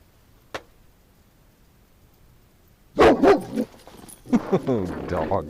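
A dog barks on a cold winter farm by a barn with ducks, a single sharp bark followed by a loud burst of several barks and throaty growling yelps, fairly close.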